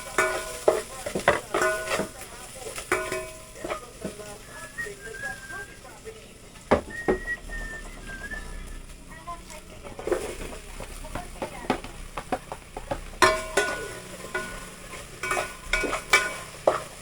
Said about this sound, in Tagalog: Luto na tayo ng miswa na may patola.